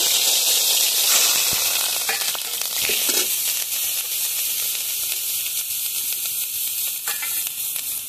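Onion paste sizzling vigorously in hot oil in a kadai, a dense, loud, continuous frying hiss up close with occasional stirring clicks and scrapes.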